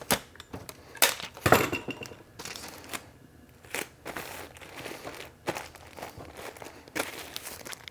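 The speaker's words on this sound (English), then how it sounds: "Excuse the tape noise." Packing tape pulled and pressed onto a poly mailer holding a pair of jeans, giving a string of sharp crackling, crinkling bursts with quieter rustling in between, close and alone.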